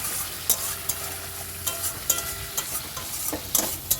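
Spice paste sautés in a pan with a soft, low sizzle, punctuated by repeated spatula scrapes and taps at an uneven rhythm, close and fairly quiet.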